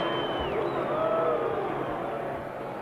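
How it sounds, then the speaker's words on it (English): Dense arena crowd at a Muhammad Ali versus Oscar Bonavena boxing fight, a loud continuous roar of booing and jeering voices with occasional whistles, steady throughout and easing slightly at the end. "Now Ali is the recipient of boos from the crowd that cheered him as he entered the ring tonight."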